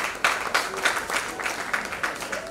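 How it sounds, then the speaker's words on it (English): An audience applauding Professor Newberry at a stage play, a steady round of clapping from a moderate crowd, fairly close and even throughout. "Let's clap Professor Newberry."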